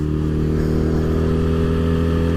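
A Honda CB 125 motorcycle cruising in top gear of its four-speed box, a steady close engine drone with a firm low hum that holds level throughout, no voices.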